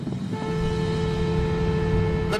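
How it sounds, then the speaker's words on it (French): A car horn held down from inside a moving car gives one long, steady, unwavering tone over the low rumble of the car and road, ending abruptly. "Le ton du klaxon est constant"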